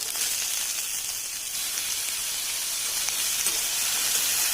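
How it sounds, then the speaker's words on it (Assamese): Onions sizzle in hot oil, a close, steady crackling hiss that holds at an even level throughout, no voices. "পিঁয়াজখিনি অকণমান ধুনীয়াকৈ ভাজি"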